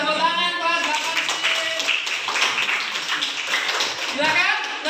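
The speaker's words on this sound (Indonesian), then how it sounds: "Tepuk tangan kelas 8C" Schoolchildren in a grade 8 classroom clap together, the claps blending into a dense patter while voices chatter over it throughout.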